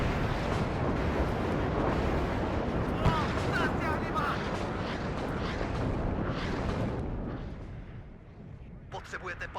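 Artillery barrage in the strategy game WARNO, a dense, continuous rumble of booming fire that thins out toward the end, with game voice chatter partly audible over it.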